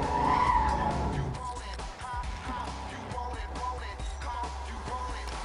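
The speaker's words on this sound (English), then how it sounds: "this is a good drag race" A car drag race in the video game Need for Speed Most Wanted 2005, driving a Mustang, with a loud revving engine and tire squeal at the start settling into a sustained high-speed engine drone and rumble, no talk.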